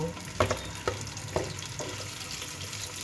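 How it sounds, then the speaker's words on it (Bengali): Baush fish sizzling in hot mustard oil in a pan, a steady crackling fry punctuated by several sharp pops and stirring clatters, close and fairly quiet. "মাছটা তেলে দিয়ে দেবো এখন"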